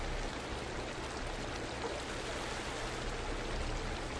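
Steady rush of a stream flowing at the water's edge, a continuous broadband wash of moving water with low rumble, constant in level and heard alone without talk.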